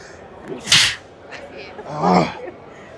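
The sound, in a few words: sneeze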